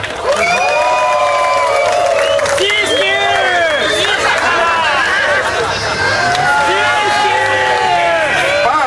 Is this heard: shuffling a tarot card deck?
no